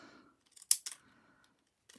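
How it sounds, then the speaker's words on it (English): Scissors snip the ragged ends of tea bags being shaped into flowers, a few short crisp cuts close up with quiet pauses between them. "Don't keep the scissors going all the way across, just keep taking them off so you get a bit of a ragged end."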